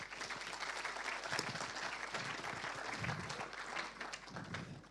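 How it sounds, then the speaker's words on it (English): A live audience applauds speakers at a data and privacy event panel session on data collaboration, the dense, steady clapping filling the room throughout without a break. "give them a round warm of applause"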